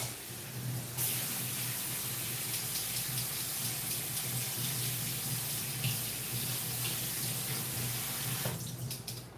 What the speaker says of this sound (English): I'm gonna put about an inch of water on the bottom of my pot.